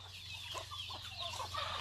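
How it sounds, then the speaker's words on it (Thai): Several chickens clucking softly and steadily nearby while feeding on rice, with a low hum in the background. "ไก่เยอะเลยครับไก่ โอ้ไก่กำลังมากิน"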